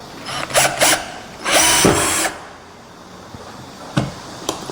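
A cordless hammer drill whirs in short bursts close by, with one longer burst driving a 64mm screw, then quiet with a few knocks and clicks.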